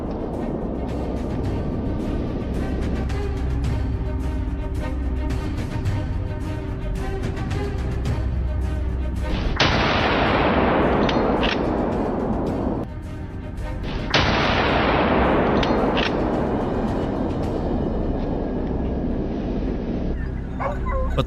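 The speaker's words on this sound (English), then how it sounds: "I aimed, took a steady breath, and squeezed the trigger" Two loud, sharp rifle shots ring out several seconds apart during a wild boar hunt in New South Wales forest, each with a long rolling echo. Dogs bark and yip excitedly throughout.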